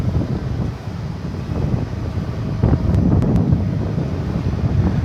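Wind buffets the microphone at DFW Airport at night, a loud, continuous rumbling roar that swells and gusts throughout, with faint distant sounds underneath and no talking.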